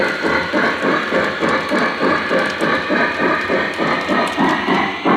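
A Lionel Legacy model NYC Hudson steam locomotive runs loud and close with steady rhythmic chuffing, regular pulsing beats over a continuous mechanical rumble, no voices.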